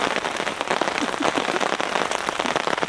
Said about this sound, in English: you get that massive rain dump on the tarp because that's basically the trees shaking